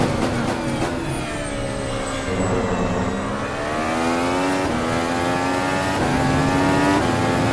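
Open-wheel F-Ultimate race car in the Automobilista sim at Interlagos, its engine droning loud and continuous with rising and falling pitch as the throttle is worked, no voices over it.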